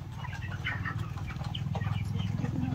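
Poultry chickens eating and resting on a small farm give soft clucks and low murmuring calls, close and continuous, under someone speaking in a steady voice.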